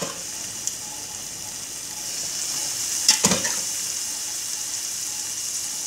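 Chickpeas for Punjabi chole are tipped into a pan of sizzling masala with green chillies; a steady hiss of frying runs throughout, broken by a brief splash and crackle as they land.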